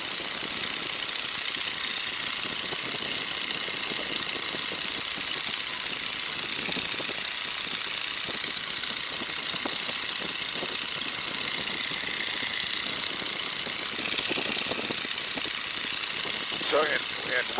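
A Stearman biplane's engine drones continuously in flight at 1,800 RPM, a loud, steady, rough mechanical roar filling the cockpit throughout.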